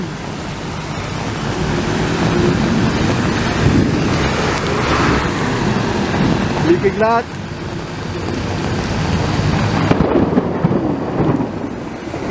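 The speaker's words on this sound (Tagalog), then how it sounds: "Dumidilim, malakas ang ulan." Heavy rain roars continuously with rumbling thunder and gusting wind against the microphone, while someone speaks over the downpour.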